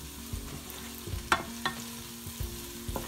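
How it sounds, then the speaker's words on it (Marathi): Chopped onion frying in oil in a pan for a Malvani Konkani-style wet jawla dish: a steady close sizzle with a few sharp scraping stirs, no voices. "तर आता आपण कांदा चांगला फ्राय करून घेऊया।"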